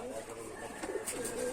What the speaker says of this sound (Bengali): এটা দেশি পায়রা, লাল মুশকি।